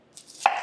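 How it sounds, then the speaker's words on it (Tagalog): A knife cuts through a white onion on a board, giving a single crisp chop with a brief crunchy tail. "Next na hiwain natin is white onion."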